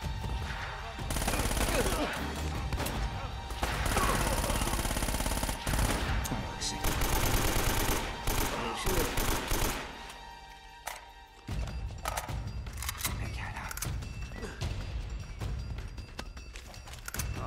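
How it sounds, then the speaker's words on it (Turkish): Rapid automatic Uzi fire from enemies in Uncharted: Drake's Fortune on PS4 rattles loudly and almost without pause, with dense bursts and impacts that thin out briefly before resuming. "Adamda da uzi varmış."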